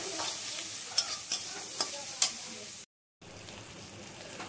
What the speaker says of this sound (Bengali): এবার ভালো করে কষিয়ে নেবো মশলাটা।